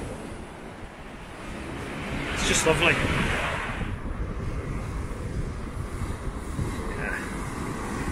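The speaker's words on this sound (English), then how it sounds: "Just hear the sound of the waves crashing." Sea waves wash onto a Norfolk beach on an October day, a broad steady roar with a swelling surge midway, mixed with wind buffeting the microphone while a person speaks briefly nearby.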